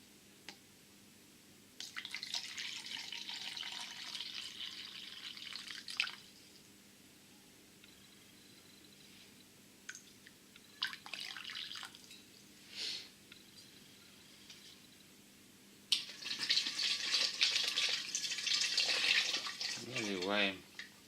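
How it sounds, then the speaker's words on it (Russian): About 200 grams of water poured from a measuring glass into a container for a homemade soda-and-vinegar CO2 system, heard as a few separate splashing bursts with quiet pauses between them. "Наливаем туда же воды."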